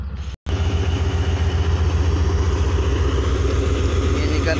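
ZCUP-30 diesel locomotive 6308 hauling the Allama Iqbal Express away from Drigh Road station, a steady deep engine drone with low rumbling throb, loud and continuous after a brief dropout near the start.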